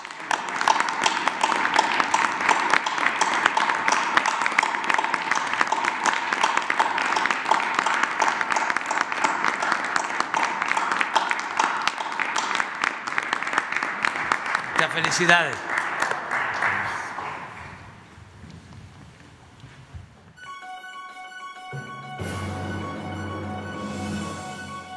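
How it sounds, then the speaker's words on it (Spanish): Sustained applause for a doctor closing a press conference on adult vaccination, steady and dense for about seventeen seconds before fading out; a voice offers brief congratulations and music begins at the end. "terminamos con un aplauso aquí para la doctora"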